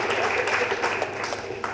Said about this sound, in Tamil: இந்த கரகோஷத்தை விட பெரிய சம்பளம் நீங்கள் கொடுத்துட முடியாது